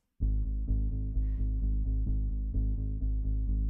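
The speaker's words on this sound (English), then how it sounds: "the old bass or original bass that we had was just a pitch down guitar because we didn't have a bass" A pitched-down guitar stands in for bass in a music production. It plays steady, evenly spaced low notes that are deep and sustained, with no voices.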